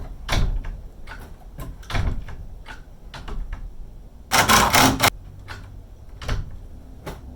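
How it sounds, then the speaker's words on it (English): A door being opened and adjusted during subfloor renovation work: a series of knocks and clunks spaced through the clip, with a brief louder rattling scrape in the middle, close and fairly loud with no talk. "Me adjusting a door."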